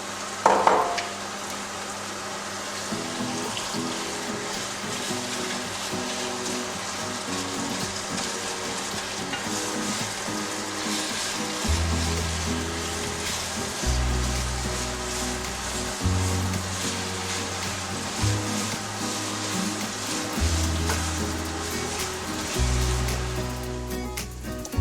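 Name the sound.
beef frying with onions for meat pie filling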